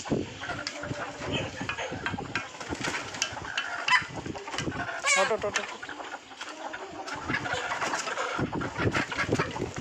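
Chickens and a large rooster cluck and call close by in a farmyard, with overlapping bird sounds and people talking among them.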